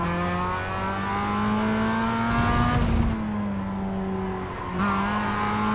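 A Mazda MX-5 set up for racing with a roll cage, driven in a VR racing game, accelerates with a steady, close engine note. The pitch climbs and surges partway through, then settles into a sustained drone.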